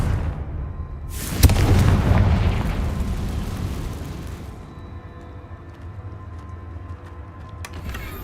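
A Confringo explosion spell from Hogwarts Legacy bursts with a sharp crack and a heavy, rumbling boom, then a long roar that slowly fades into a low, steady ambient rumble.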